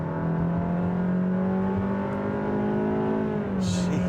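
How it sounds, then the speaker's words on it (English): A 2023 Honda HR-V in sport mode accelerates, its engine droning steadily and rising slowly in pitch from inside the cabin. A voice makes a brief exclamation near the end. "Let's see if putting it in sport makes any difference to the acceleration."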